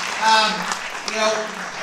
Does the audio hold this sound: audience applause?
yes